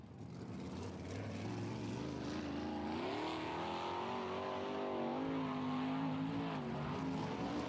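Sprint car on a qualifying lap around a dirt speedway at Lakeside, engine droning steadily and loud with a rising and falling pitch as it works down the backstretch.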